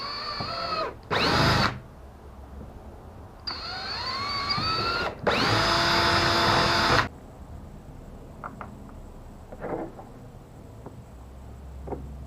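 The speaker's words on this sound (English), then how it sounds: "Now we just gotta drill holes" A power drill whines in two loud bursts drilling holes for a sailboat rudder, revving up and down in pitch, followed by quieter clicks and handling noises.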